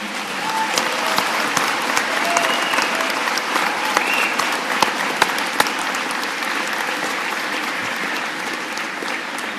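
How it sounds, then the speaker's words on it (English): Sustained applause from a large crowd, dense steady clapping with a few sharper claps standing out, continuing without a break. "would you please join me in a round of applause"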